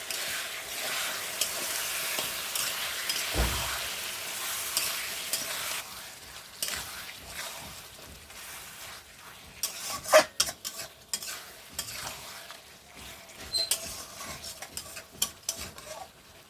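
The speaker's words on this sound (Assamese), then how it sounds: "আৰু গোটেই মছলাখিনি এড কৰাৰ পিছত মই মাংসখিনি অলপ লাৰি দিছোঁ" Lamb meat coated in spices, including ground cumin, is stirred in a pan for lamb curry, giving a continuous frying sizzle with busy, irregular scraping and clattering strokes that grow choppier toward the end, close up and without speech.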